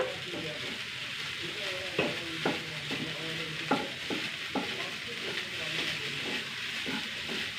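A spatula stirs rice mixed with scrambled egg in a hot frying pan, giving a steady sizzle with repeated scraping taps at irregular intervals, close and fairly quiet with no talk.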